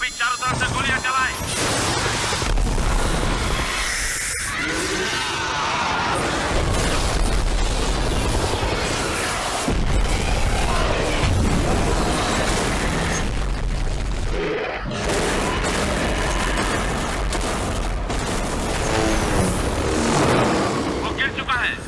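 Gunfire sound effects in a Hindi-dubbed Chinese action film, dense bursts and booms layered over a loud, continuous battle mix of blasts and rumble, with dramatic score and effects filling the whole stretch.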